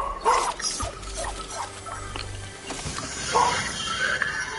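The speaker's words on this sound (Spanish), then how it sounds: "Está en el balcón ahí ladrando" A pet dog on a balcony barks and whimpers while squaring off with another dog from the building, a few short yelps over a steady low hum and background clatter, moderately close.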